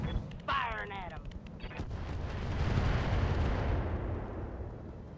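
Heavy weapons fire and rumbling booms from mech combat in the RogueTech video game, dense and continuous throughout, with a brief voice near the start.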